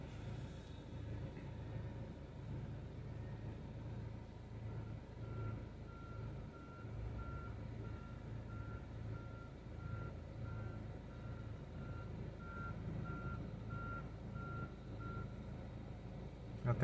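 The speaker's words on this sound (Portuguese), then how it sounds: "o alarme de ré ainda funcionando" Reversing alarm on a Komatsu GD555 motor grader beeps steadily in a regular repeating rhythm over a constant low diesel engine rumble, heard at a moderate distance with no talking.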